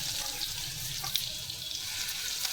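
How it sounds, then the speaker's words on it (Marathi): A sandwich mixture sizzling in a hot pan of mustard-seed tempering in a home kitchen, a steady, even hiss that holds at a moderate level throughout, close by and without speech. "थोडंसं मिश्रण फ्राय करून घेऊया."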